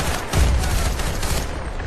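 Dense gunfire from the video game Battlefield: Bad Company 2, a loud continuous fusillade of overlapping shots and bursts with heavy low rumble, close and busy throughout.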